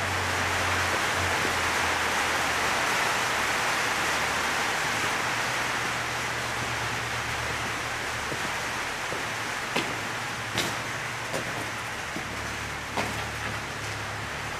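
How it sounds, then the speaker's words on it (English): Steady rain noise hisses broadband and constant inside the Mayflower Gold Mill, with a low hum beneath and a few sharp drip or tap transients near the end. "And it's raining."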